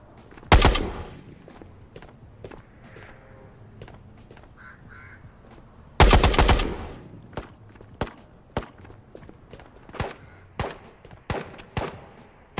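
Gunfire in the video game Ghosts of Tabor: two heavy bursts of shots a few seconds apart, then a run of single sharp reports and footstep-like thuds, loud and close with no speech.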